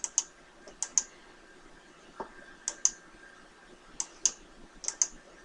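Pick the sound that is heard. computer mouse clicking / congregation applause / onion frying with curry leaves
computer mouse clicking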